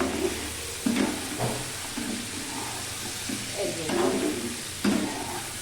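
Fried onions are stirred into a pan of bhetki fish-bone chorchori, giving soft scraping strokes over a steady sizzle, with a few louder stirs spaced through the stretch.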